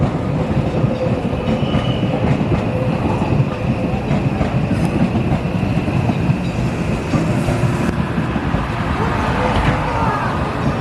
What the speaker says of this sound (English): There goes one of their most famous romance cars.